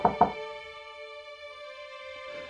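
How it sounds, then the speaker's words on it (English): Two quick knocks on a door, close and crisp, followed by a lingering sustained musical tone that fades out. "he heard a knock at the door"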